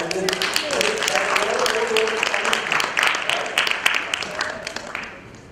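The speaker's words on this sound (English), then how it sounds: "Then it's a big round of applause." Conference audience at a panel discussion gives a round of applause, steady dense clapping that fades slightly toward the end, with some voices mixed in.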